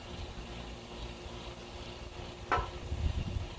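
Smashed potato pieces and vegetables sizzling on a Blackstone griddle, a soft, constant fry hiss with a sharp scrape or clack midway, followed by low rumbling handling noise.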